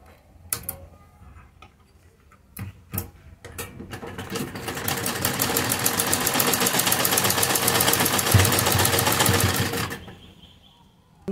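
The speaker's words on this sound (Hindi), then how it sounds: "अब हम यहाँ से एक तरफ से सिलाई लगाएंगे किनारी पर।" Sewing machine stitching the fabric edge of a sleeve: a few sharp clicks and taps, then a loud, steady whirring run of about six seconds that stops abruptly, with no talk.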